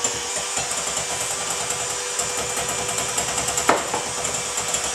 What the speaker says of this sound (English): I can't imagine doing this without a hand mixer